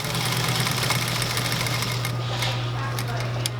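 A sewing machine stitching a box X stitch through fabric runs in a steady continuous whir with a low motor hum throughout, close and fairly loud, with no pauses.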